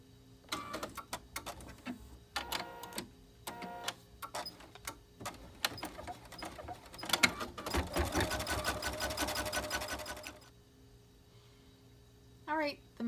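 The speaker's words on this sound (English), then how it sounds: "your machine is stitching this section" An embroidery sewing machine quilts a zipper bag in rapid mechanical bursts of stitching, stopping and starting, then a long, loud, dense run before it falls quiet, with brief sounds near the end.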